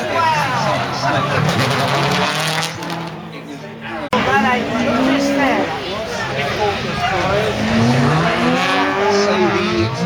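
A rally car runs on a gravel stage road, its engine revving and shifting loudly with squealing pitch sweeps, a brief drop partway through, while a commentator talks over it.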